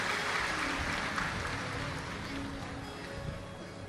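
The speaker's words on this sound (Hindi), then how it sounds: "एक बार जोरदार ताली बजाकर इनका स्वागत, वंदन, अभिनंदन।" A large crowd at a Shiv Mahapuran katha gathering during the Mahakumbh claps loudly to welcome the chief hosts, a dense wash of applause that starts strong and gradually tapers off.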